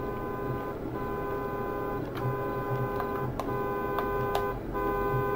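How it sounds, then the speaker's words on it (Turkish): A car engine in the horror video game Graveyard Shift gives a steady tonal hum with layered harmonics, held at moderate loudness for several seconds and broken by a few brief sharp clicks. "Evet, arabanın sesini duyuyoruz."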